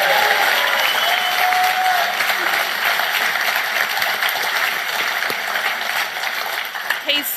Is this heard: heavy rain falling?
no